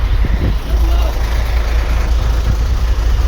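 A truck idles close by on a road in Thailand, giving a low steady engine rumble for a few seconds. Background noise from other traffic sits under it, and a voice talks briefly.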